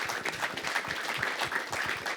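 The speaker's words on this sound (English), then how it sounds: "give these guys a round of applause again." A modest round of applause for presenters at an event, made up of fairly soft, scattered clapping from a smallish audience that lasts a couple of seconds.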